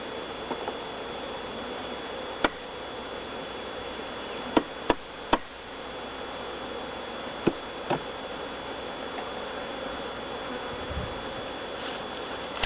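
Honeybees drone in a steady, soft hum during a top bar hive inspection, with a few sharp clicks and taps from handling equipment scattered over it.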